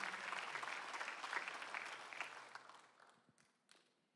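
A congregation at a Korean church's Sunday afternoon worship service applauds, a faint, distant wash of clapping that thins out and fades to a few scattered claps near the end.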